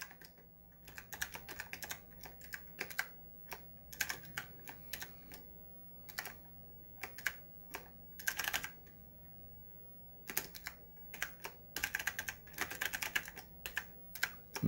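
Close-up typing on an Apple IIc keyboard: quick bursts of clicking keys separated by short pauses, with no voices.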